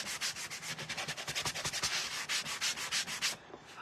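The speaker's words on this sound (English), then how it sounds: "I'm going to go ahead and distress this red with my sanding block." Steady rhythmic scraping of a sanding block rubbing back and forth across red-painted wood, distressing the paint, many quick strokes in a row, close and clear with no talking.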